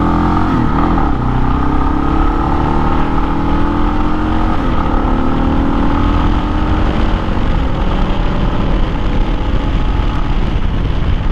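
A Kawasaki KLR 650 motorcycle pulls away under moderate throttle in traffic, its engine note climbing steadily in a sustained drone, loud and close, with no speech.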